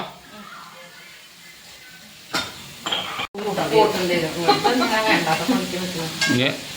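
Onions sautéing in oil in a home kitchen pan, quiet at first, then a loud, steady sizzle with brisk, repeated stirring scrapes, while a person talks nearby.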